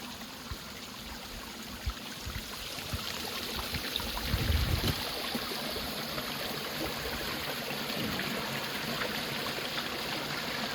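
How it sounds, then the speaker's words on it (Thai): Continuous rushing water, a steady broadband wash of flowing water like a waterfall or stream, moderately loud with no talk over it. "เป็นน้ำตกสวยงามหม่องนึง"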